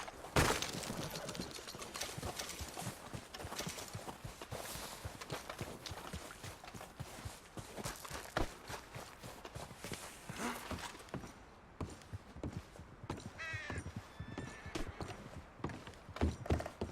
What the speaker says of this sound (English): So is this horse just gonna follow me?